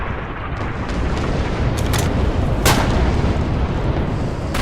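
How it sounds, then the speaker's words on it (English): Enemy gunfire and artillery in the World War II shooter Red Orchestra 2 form a loud, dense roar of battle, with sharp cracks of rifle shots bursting through a continuous rumbling barrage. "Enemy fire! Enemy fire! I'm trapped!"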